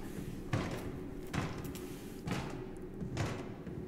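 Bonnie knocking on a door in the horror game FNAF Into The Pit makes about four evenly spaced, dull, heavy knocks, each a muffled thud over a constant low ambient hum.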